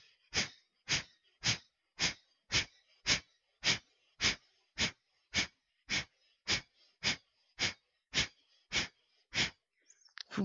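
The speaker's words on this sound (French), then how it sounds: "expire, Kapalabhati." Kapalabhati yoga breathing: a long run of about eighteen sharp, forceful nasal exhalations at a steady quick rhythm, each a short loud burst separated by near silence, heard close.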